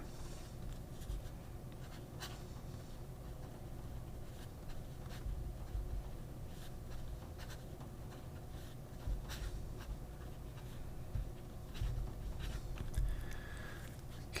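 A fountain pen with a 14 karat fine nib writes on paper, giving faint scratchy strokes and soft taps in an irregular rhythm against a quiet room background.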